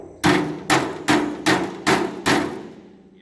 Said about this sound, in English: So now I'm going to switch over to the flat side of the engineer's hammer